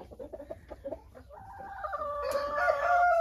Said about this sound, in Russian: А сейчас здесь вот этот петух. И вот такая курочка.